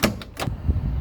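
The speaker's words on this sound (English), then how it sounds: "the sound it makes when opening and closing the doors is very mechanical and solid feeling" Door of a 1968 Chevrolet Corvette C3 opening and shutting, with a couple of short mechanical clicks from the handle and latch, then a solid, close thud of the door closing.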